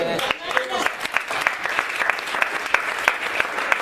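Church congregation at a Wednesday Bible study bursts into sustained applause and cheering for God, rhythmic clapping running steadily throughout with voices mixed into the crowd noise.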